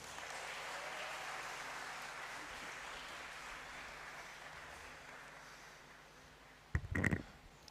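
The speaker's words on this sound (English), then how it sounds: "Shall we please welcome him with a round of applause?" A crowd at a pharmacy school white coat ceremony applauds in a steady, hissing wash that slowly fades out, followed by a brief bump of handling noise near the end.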